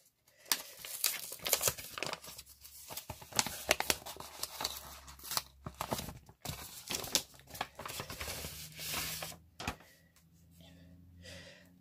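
A paper envelope being opened by hand, with close crinkling, rustling and tearing in irregular bursts that soften toward the end.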